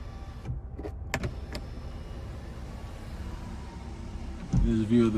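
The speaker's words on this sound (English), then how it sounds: "up here, you have a power sunroof" The power sunroof of a 2021 Nissan Altima SR slides open with a smooth, even electric motor whir inside the quiet cabin, after a few faint clicks, before a voice briefly starts at the end.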